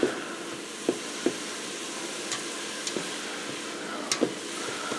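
Beef tips browning in a hot pan for beef tips and gravy, giving a steady low sizzle with a few soft clicks and scrapes, heard alone without talk.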